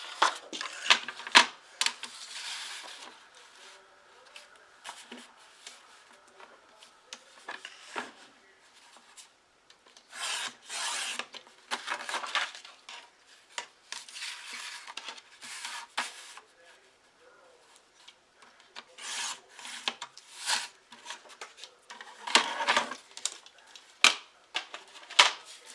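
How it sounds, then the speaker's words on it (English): Paper being cut into a six-by-six-inch square for a party craft project, heard as repeated crisp snips and slicing strokes in close bursts separated by short pauses, with no voice over them. "I'm going to cut a square 6 by 6."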